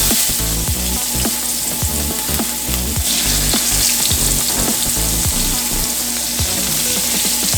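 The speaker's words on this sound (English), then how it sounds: "we are going to add a little piece of the onion in this" Onion pieces fry and sizzle steadily in a hot pan while Jamaican curry chicken cooks, a close, continuous crackle with scattered sharper pops and the clink of stirring, with no talking.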